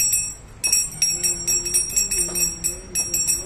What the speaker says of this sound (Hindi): ओए घंटी बजा रहे हो क्या?